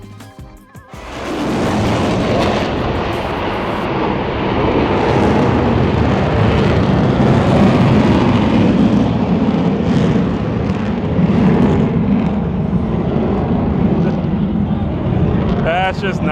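At the Sun 'n Fun airshow, an aircraft roars overhead, building quickly to a loud, sustained engine roar with wind buffeting that holds steady and slowly recedes, with voices faintly underneath.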